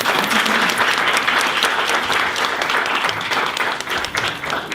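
Dense audience applause at a school alumni reunion dinner after a poem reading, sustained clapping from a large crowd filling the room at full volume, easing slightly toward the end.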